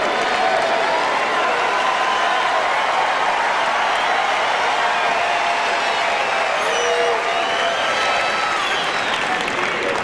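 A large tennis crowd at Arthur Ashe Stadium cheering and applauding Sampras at the 1997 US Open, a dense, loud, sustained roar of clapping and whoops that continues throughout.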